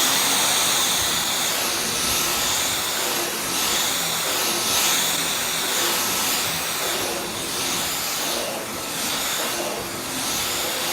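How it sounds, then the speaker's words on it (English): A Dyson V12 Detect Slim cordless vacuum runs on carpet at a low setting, a steady whining motor hum that rises and dips slightly as it is pushed back and forth, loud and continuous. "since I run this vacuum over this carpet, I don't know, a couple of 100 times now"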